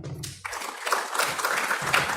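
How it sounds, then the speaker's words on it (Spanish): Audience applause at a conference on the Chancay megaport and international arbitration, a broad steady patter of clapping filling the room for about two seconds, with a brief low voice at the start. "Un aplauso, por favor."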